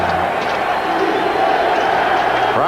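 A stadium crowd of over 87,000 at a 1989 Broncos versus Raiders NFL football game, a steady loud roar of cheering and noise that fills the whole moment, with a commentator's voice running beneath it.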